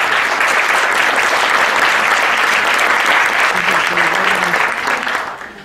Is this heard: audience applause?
yes